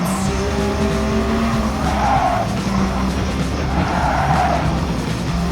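Race car in Gran Turismo running off the track at the Nürburgring, loud engine roar with tire squeal and skidding as it rides over the curbs, continuous with two scraping swells.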